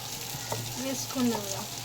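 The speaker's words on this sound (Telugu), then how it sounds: "ఇప్పుడు ముందుగా వేసుకున్న పల్లీల పేస్ట్ వేసుకుందాం" Peanut paste being stirred into a sizzling Telangana-style fish curry (pulusu) in a pan, with a steady close frying sizzle and soft scraping stir sounds throughout.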